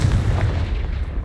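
A Confringo blast spell explosion in the video game Hogwarts Legacy, a loud, dense, booming burst with heavy low rumble that sustains briefly and fades.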